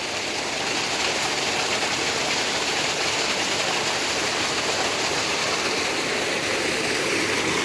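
Irrigation water rushes steadily into a banana plantation beside rice paddies, a loud, continuous broadband wash with no voices over it.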